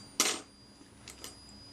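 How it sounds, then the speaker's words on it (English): Shutter being cocked on a Retina IIIc camera: a quiet, sharp mechanical click followed about a second later by a softer pair of small clicks, close up in a quiet room. "cock the shutter"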